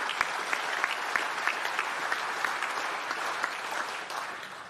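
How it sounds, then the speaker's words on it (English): An audience at an innovation awards event applauds its panel of judges, steady close clapping with a few sharper individual claps, tapering slightly at the end. "What about a round of applause for all 18 of our judges?"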